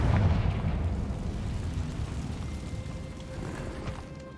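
A Confringo blast spell goes off in a video game, a loud low boom at the start that rolls into a long rumbling tail fading over several seconds, with no talking.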